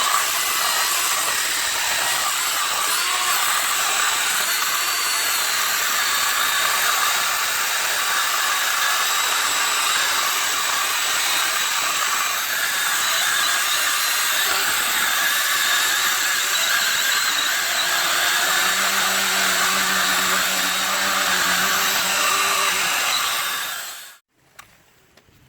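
A Milwaukee M12 Hatchet cordless chainsaw cuts through a 4-inch log, holding a loud, steady high-pitched whine for about twenty seconds before the motor cuts off abruptly near the end.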